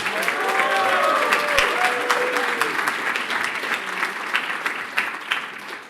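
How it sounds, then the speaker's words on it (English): Warm audience applause at an awards ceremony greets a presenter, steady clapping that fades slightly toward the end, with a few brief voices and whoops mixed in. "So please give her a warm round of applause."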